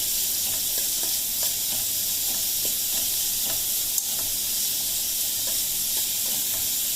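Curry leaves and onions fry in a pan, giving a constant bright sizzle and hiss close up, with faint irregular stirring clicks.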